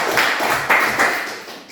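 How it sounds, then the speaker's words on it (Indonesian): Classroom applause from a junior high school class after a group presentation, a brief burst of scattered clapping with a few stronger claps, moderately loud and close, with no talking. "Tepuk tangan."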